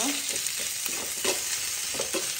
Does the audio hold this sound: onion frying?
yes